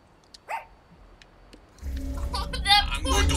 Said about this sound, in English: I could be a dog.